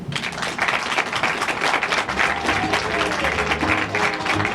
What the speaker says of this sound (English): please give Mr. Robert Menendez, United States Senator of New Jersey, another round of applause